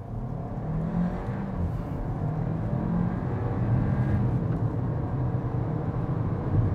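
A 2024 Hyundai Kona Limited in sport mode accelerates under light throttle, its engine giving a steady low drone and road rumble heard from inside the cabin that builds gently and continuously, with no talking.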